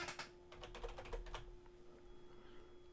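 Typing on a computer keyboard while entering a font name in WordPress: a quick burst of close, quiet key clicks that fades into a faint background hum.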